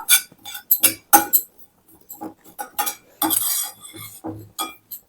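Something being roasted and stirred in a pan for immunity-boosting laddu, with a utensil scraping and clinking against the metal in quick irregular bursts, close by, with no one talking.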